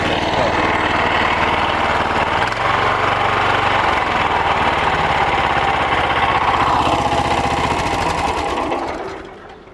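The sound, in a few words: key-start engine of multipurpose cultivator starting and running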